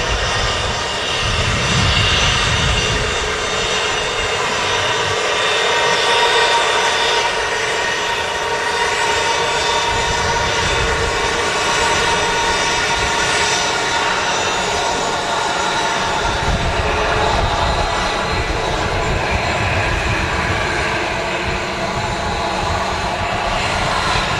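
A Helvetic Embraer jet airliner touches down at Manchester Airport with a loud, sustained engine roar and rushing noise that swells and holds for over twenty seconds. No one speaks.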